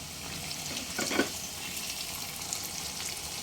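Chopped tomatoes frying with onion and ginger-garlic paste for mutton leg nehari give a soft, steady sizzle with a brief louder hiss and clatter as they hit the pan, then continuous faint frying.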